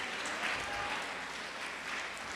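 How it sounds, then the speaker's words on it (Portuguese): Applause from a congregation during a church worship service, a steady wash of clapping at moderate volume that fills the whole moment without a break. "Pode aplaudir e glorificar."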